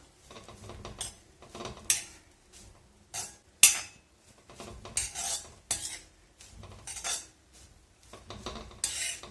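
Grated coconut and four or five curry leaves being fried in a pan, with irregular scraping and clinking of a spoon against the pan in short bursts and quiet gaps between.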